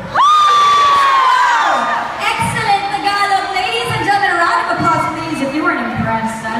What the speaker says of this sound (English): a round of applause, please, if you weren't impressed.